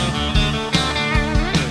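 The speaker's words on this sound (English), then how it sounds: "we've got a little lick that leads into the pedal steel solo" A quick guitar lick from a country tune plays alone, a short run of plucked notes with sharp attacks and ringing sustain, close and clear.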